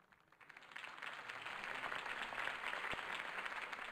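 Crowd applause in a video game rally scene, rising from quiet into steady, dense clapping that holds at an even level throughout.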